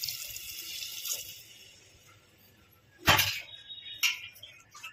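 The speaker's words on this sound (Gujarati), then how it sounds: "હવે આપણે 1 ગ્લાસ પાણી એડ કરશું." Water from a glass poured into a pot of Gujarati-style potato curry, a steady hissing splash that surges loudly for a moment before tapering off, with no talking.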